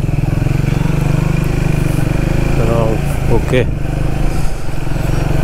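A motorcycle engine runs steadily on a long bike ride from Navi Mumbai to Nepal, stopped near a temple. Its constant close drone carries under a short conversation between voices.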